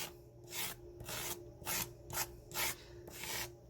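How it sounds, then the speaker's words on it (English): Flat knife blade scraping excess paste off a card-making stencil, heard as about six close, soft rasping strokes in an even back-and-forth rhythm with faint hum between. "make sure my knife is flat over the surface, run that over a few times, and it's going to scrape up any extra that is there on the surface"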